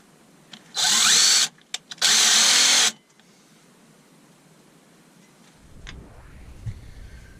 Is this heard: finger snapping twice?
no